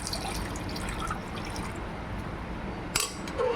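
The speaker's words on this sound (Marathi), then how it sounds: "याच्यात थोडं आपण पाणी ॲड करूया" Water pours into thick dal in a pot, making a soft, steady liquid trickle close by, with a brief clink near the end and no talking.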